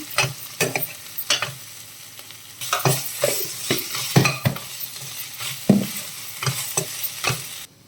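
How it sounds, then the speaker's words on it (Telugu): Ginger garlic paste frying with turmeric in a pan, stirred in repeated scraping strokes over a steady close sizzle, with irregular louder clatters from the spoon against the pan. "పసుపు వేసేసుకుందాం అల్లం వెల్లుల్లి పేస్ట్ వేద్దాం"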